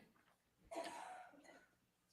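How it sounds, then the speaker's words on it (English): One person coughs once, a short rough burst that trails off into breathy noise, close but quiet in an otherwise hushed setting. "Just coughing."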